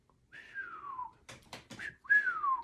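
A person whistles nearby in gliding, falling tones: a long descending whistle, a few short breathy chirps, then another downward glide, fairly soft and alone.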